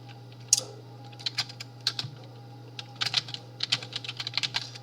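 Quick bursts of keystrokes on a computer keyboard, close and crisp, in irregular clusters with short pauses between words; no talking.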